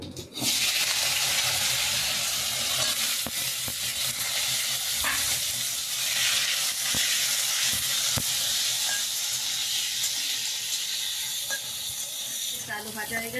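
Potatoes sizzle loudly in hot oil with cumin and whole garam masala, a steady close hiss and crackle with occasional sharp clinks of stirring and faint voices underneath.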